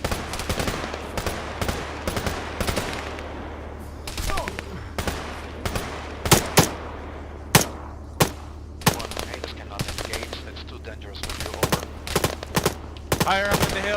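Machine gun fire from a hill in a military video game, with repeated sharp shots and short bursts over a steady low hum, mixed with voices talking over radio.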